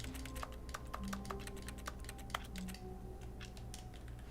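Computer keyboard typing in the video game The Stanley Parable: fast, irregular clicking keystrokes, fairly faint, running over a low steady hum and thinning out toward the end.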